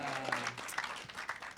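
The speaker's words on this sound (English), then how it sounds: "Rousing rounds of applause." A studio audience at a polka music show applauds briefly, with a scattered, moderate clatter of hands and a voice briefly audible at the start.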